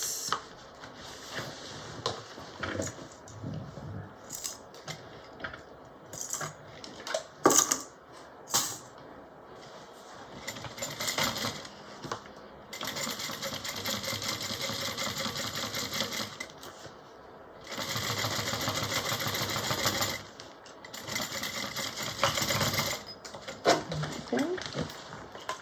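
A sewing machine top-stitches onto the base of a Lettie Mini Bowler Bag, running in two steady sustained stretches of a few seconds each, with brief handling noises and pauses between them.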